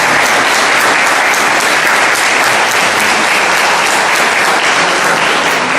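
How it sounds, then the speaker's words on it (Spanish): A conference audience gives a warm round of applause for a civil court magistrate being introduced, thick loud continuous clapping from a large room that holds evenly throughout with no talking. "a quien damos un fuerte y caluroso aplauso"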